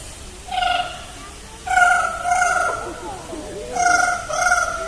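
A bird at a bird park show mimics a ringing telephone: four bursts of warbling electronic-style trills with harmonics, separated by short pauses, fairly close and clear.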